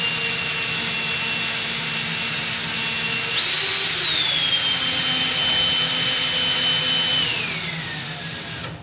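A power drill whirs steadily into an arcade cabinet build, its pitch rising sharply midway then holding a high, strained whine before winding down near the end; loud and close, with no talking.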